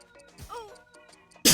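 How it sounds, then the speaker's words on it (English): A person with a cold sneezes once, a sudden loud burst at the very end, after a moment of quiet breathy vocal sounds and faint ticking. "I have to sneeze."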